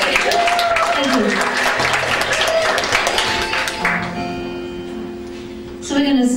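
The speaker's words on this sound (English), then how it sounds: "Give them a big round of applause" Audience applause at a folk concert, a dense burst of clapping mixed with cheering voices and some tonal music or feedback, easing off midway before a brief swell near the end.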